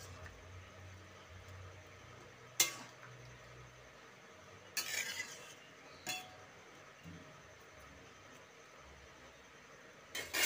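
A utensil stirs boiled cauliflower in a cooking pan, giving a few sparse metallic clinks and short scrapes against quiet room noise, with no talking.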